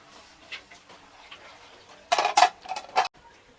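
A metal spoon clatters against a cooking pot while mixed pork cuts, including skin, wings and pig's feet, are stirred. Several sharp scraping and clinking bursts come close together after a quiet stretch.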